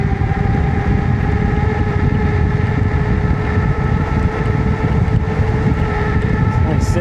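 Isinwheel H7 Pro sit-down electric scooter running at speed, a steady motor whine with harmonic tones over heavy, continuous wind rush, loud and unbroken throughout.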